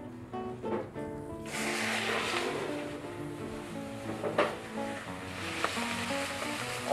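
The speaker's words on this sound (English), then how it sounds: "The pan is hot. I'm going to add the lobster shells." Lobster shells hitting a hot pan with clarified butter in a restaurant kitchen, a sizzle that swells after a second and a half and then hisses steadily, with a few faint knocks, no talk.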